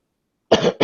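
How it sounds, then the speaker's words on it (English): Two sharp, close coughs from a man during a podcast, a harsh burst followed by a shorter one, right after a moment of silence. "Sorry about all the coughing, guys."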